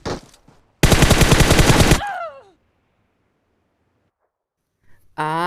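Rapid automatic gunfire in the battle royale mobile game BGMI: one loud, sustained burst of about a second, then fading game tones, a near-silent gap, and another tonal game sound at the end.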